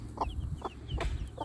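A mother hen clucks in short, repeated calls to her chicks, several soft clucks spaced at an even rhythm, close by with faint chirps between them.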